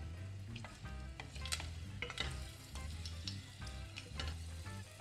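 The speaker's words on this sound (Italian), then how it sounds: "Aggiungo uno spicchietto d'aglio tagliato a metà e lascio profumare l'olio e imbiondire l'aglio." A halved garlic clove frying in olive oil in a pan, a soft steady sizzle with light crackles and faint stirring, fairly quiet and alone.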